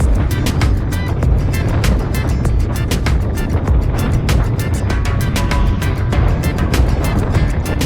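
A stock Yamaha Aerox scooter rides along a road on a short tour through forest and coffee plantations, giving a steady, loud, close engine drone with strong wind rush and bumpy road noise throughout.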